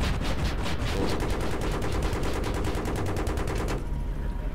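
Sustained rapid automatic fire from a helicopter door gunner raking walls in Battlefield 3, a dense loud burst of repeated shots that cuts off near the end, leaving a lingering rumble.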